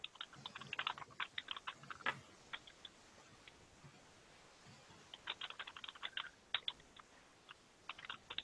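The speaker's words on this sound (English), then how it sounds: "I think we can hear you typing." Close, quiet typing on a computer keyboard during a Zoom call, bursts of rapid key clicks separated by short pauses, with no voices over it.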